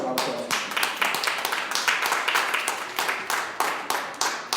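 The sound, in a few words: church congregation applause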